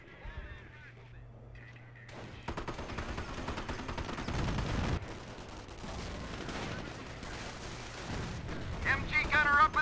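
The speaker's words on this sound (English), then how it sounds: "MG gunner up and firing." Company of Heroes battle sounds, with an MG gunner firing machine-gun bursts amid dense artillery-like booms and gunfire. The noise is loud and continuous, rising in intensity, with faint talk underneath.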